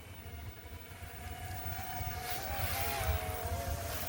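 Two small M23 and K100 Max drones fly together outdoors, a steady rising whine of their propellers with wavering tones over low wind rumble, growing slightly louder toward the end.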